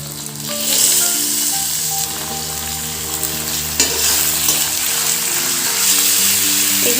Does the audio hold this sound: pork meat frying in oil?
yes